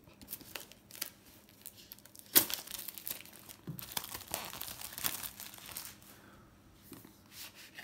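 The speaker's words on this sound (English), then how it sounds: "there is a polythene wrap on the outside. First I'm gonna cut it." Polythene wrap on a smartphone box, a Xiaomi Mi A1, is cut and crinkled, giving faint, close, irregular crackling and rustling with a sharper snip partway through, and no talking.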